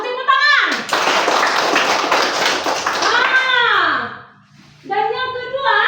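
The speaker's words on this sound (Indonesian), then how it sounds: "Ya, tepuk tangan." Schoolchildren clapping their hands in a classroom, a dense burst of applause-like claps lasting a few seconds, loud and close, then fading before a voice resumes speaking.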